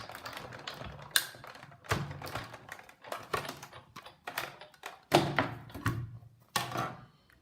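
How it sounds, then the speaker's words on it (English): Paper card and cutting pads being run through a Big Shot die-cutting machine, giving a series of close, crisp taps, clunks and cranking rattles at an uneven rhythm, with no talking. "hold everything in place and run it through my Big Shot"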